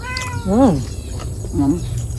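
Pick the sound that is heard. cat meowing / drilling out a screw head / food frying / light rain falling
cat meowing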